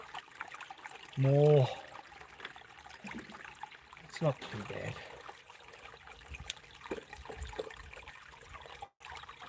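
Water trickles steadily through a gold sluice with riffles in a river, a soft continuous flow heard close under a man's brief spoken remarks and a sharp whistle-like tone early on.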